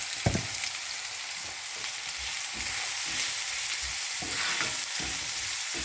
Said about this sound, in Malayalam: ഗോൾഡൻ ബ്രൗൺ ആവുന്ന വരെ നമുക്ക് ജസ്റ്റ് ഒന്ന് ഇളക്കി കൊടുത്തിട്ട് അങ്ങോട്ട് വേവിക്കാം.